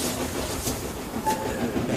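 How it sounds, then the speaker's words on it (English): A long train of coaches rolls along the rails with a steady, loud rumbling clatter and a brief faint squeal, with no voices over it. "staring at the long train"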